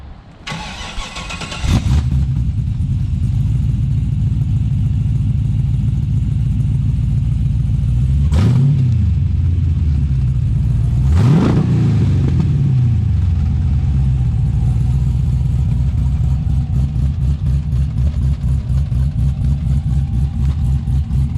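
A 1969 Camaro V8 cranks and fires up, settling into a loud, lopey, choppy idle, with two sharp throttle blips rising and falling midway before the uneven rumble continues alone.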